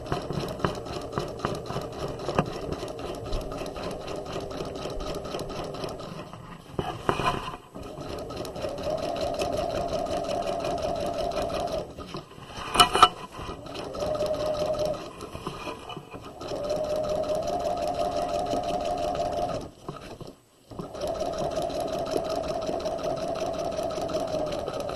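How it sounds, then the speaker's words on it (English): A domestic sewing machine stitches a jacket facing to the collar along a 5/8 inch seam at regular stitch length, running from center front to center front. The motor drones steadily and close, with a few brief pauses and restarts and no talk. "To sew the facing on, we're going to sew from center front to center front across the top of the collar."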